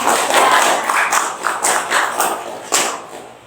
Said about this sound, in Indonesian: Kita tepuk tangan dulu untuk anak yang tadi berani menjawab.